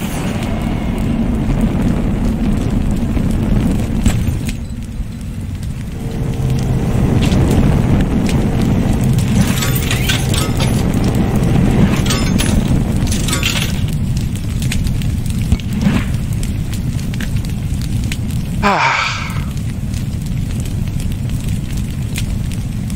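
A fireplace fire in the video game Little Inferno burns with a steady, loud roaring crackle, broad and continuous throughout, with occasional brief pops and a sharper flare near the end.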